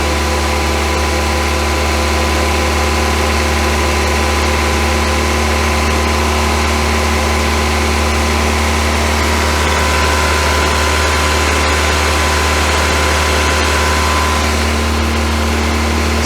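A VW Scirocco MK2 engine idles steadily and smoothly, a loud constant drone with no tappet noise and no break in the sound.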